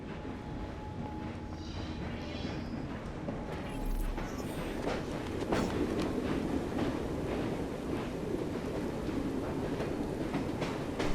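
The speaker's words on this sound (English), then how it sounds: "so we're back here on our train" A steam-era train runs in the video game Assassin's Creed Syndicate, a continuous rumbling roll with rhythmic clatter building slightly and holding steady throughout.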